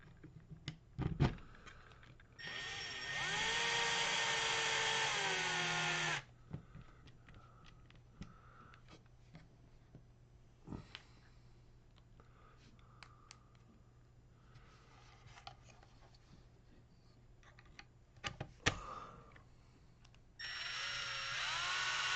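A power driver spins screws into an Associated T6.4 RC truck during a build, running in steady whirring bursts of a few seconds each, separated by quieter handling clicks and small part rattles.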